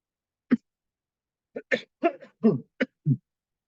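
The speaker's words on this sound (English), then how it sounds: "Sorry, I'm still coughing." A person coughs several times in quick, short bursts, close and fairly quiet, with brief pauses between them.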